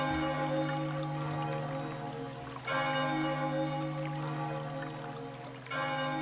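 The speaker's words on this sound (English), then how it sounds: "Ah, that's the bell of oblivion." A deep, resonant bell of oblivion from the video game Chocobo's Mystery Dungeon rings with long sustained tones, struck again partway through and once more near the end, each strike swelling over the lingering hum.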